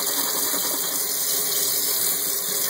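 Water runs steadily from a kitchen tap while a bottle is rinsed, a loud continuous hiss and splash that stays even throughout with no pauses.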